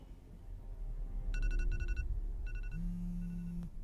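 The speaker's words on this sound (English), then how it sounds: "You set that alarm last night." A bedside alarm rings in bursts of bright electronic beeps, two clusters then a longer sustained tone, fairly loud over a low room hum with no talking.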